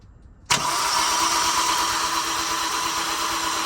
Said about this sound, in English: So Ab's gonna crank it and we're gonna see if it sparks.